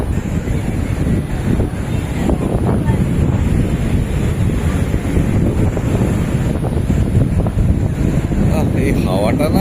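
Strong wind buffets the microphone at Puri beach while sea waves roar and wash in the background, a dense rumbling continuous noise with a voice faintly mixed in.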